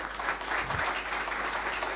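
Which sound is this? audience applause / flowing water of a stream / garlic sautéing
audience applause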